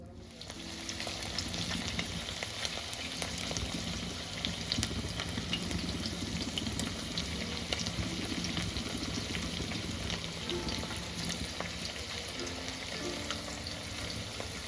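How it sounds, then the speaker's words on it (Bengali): Curry leaves dropped into medium-hot oil crackle and sizzle in a steady, fairly quiet hiss that runs without a break, with no talking over it. "এবার একটু কারি পাতা দিয়ে দিলাম।"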